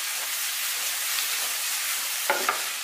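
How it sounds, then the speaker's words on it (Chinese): Sliced carrots and pork stir-fry in a wok with a continuous bright sizzle close by. A couple of brief scraping knocks come near the end as the food is tossed, and no one speaks. "这个时候我们把肉给它倒进来，"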